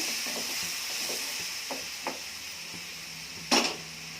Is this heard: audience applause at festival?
no